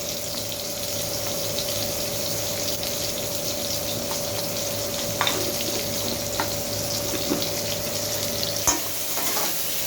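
Potato pieces frying in a pan, giving a constant close sizzle with occasional crackles and light stirring clicks over a low steady hum.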